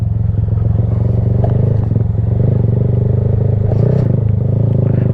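A motorcycle engine chugs in a loud, steady low throb close by as it pulls away with the clutch let out, faint clatter riding over the even idle-like pulse.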